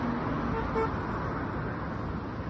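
Passing cars honk at a protester holding a sign at the side of a road. Short horn toots sit over a dense, steady wash of traffic noise from vehicles going by.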